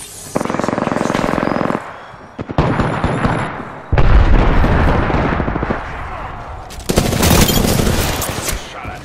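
Video game gunfire comes in loud bursts of rapid automatic fire separated by short pauses, with a heavy impact near the middle and dense crackling volleys toward the end.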